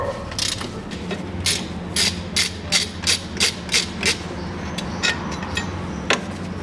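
Ratchet with a 14 mm socket turning a bolt under a bracket during timing belt work on a Toyota Mark II JZX101, a close run of sharp rhythmic clicks in a quick even series.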